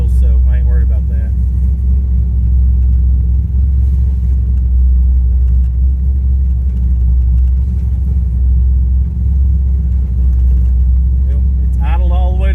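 An LS-swapped third-generation Camaro idling hot, a loud steady low rumble that holds unbroken throughout, with brief speech at the start and end.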